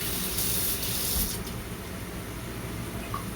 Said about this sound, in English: let's rinse this up a little bit